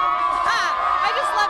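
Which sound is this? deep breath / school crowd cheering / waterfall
school crowd cheering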